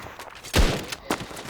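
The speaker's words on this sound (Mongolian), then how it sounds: "ямар хажуудлаас бууддаг" Gunfire in the mobile shooter Standoff 2 comes as two sharp, loud shots about half a second apart, each with a short echoing tail, alone with no talk.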